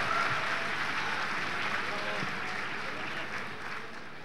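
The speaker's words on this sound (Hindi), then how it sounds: "ज़ोरदार तालियों से उनके इस्तक़बाल के लिए शमीम अब्बास" An audience claps loudly and steadily at a large mushaira poetry gathering, a dense wash of applause that fills the hall and slowly fades toward the end.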